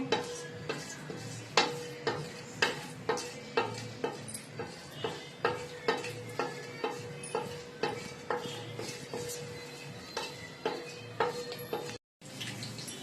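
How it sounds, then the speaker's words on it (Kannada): Whole spices (pepper, fennel, cinnamon, cloves, cardamom and bay leaf) frying for chicken biryani, a faint sizzle under steady rhythmic metal ladle scrapes and clinks against the pan, about one each half second. "ಇವಾಗ ಇದು ಸ್ವಲ್ಪ ಫ್ರೈ ಆಗೋವರೆಗೂ ಹುರ್ಕೋಬೇಕು."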